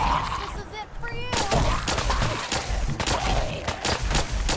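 Gunfire from a Fallout 4 firefight: a rapid, loud volley of shots and impacts, with a sharp burst after a short lull and continuous shooting layered over game noise.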